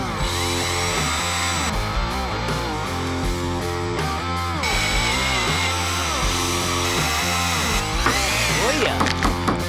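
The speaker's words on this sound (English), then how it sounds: "Again, the little self-tapping screw, and these are mainly meant for sort of plastic and wood, but they seem to really be working on here." A power driver sinks self-tapping screws while a large sink is fitted aboard a narrowboat, its motor whining in repeated close bursts that rise and fall in pitch as each screw bites and tightens.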